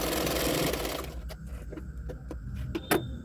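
A sewing machine runs fast for about a second, stitching a hook strip on a lined double katori blouse, then stops, leaving scattered clicks and fabric handling.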